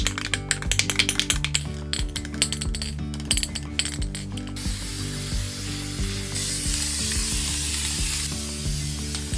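A can with a rattling mixing ball is shaken hard outdoors during a van rebuild in a rain storm, giving rapid, rhythmic metallic clicks for about four seconds before a steady rain-like hiss takes over.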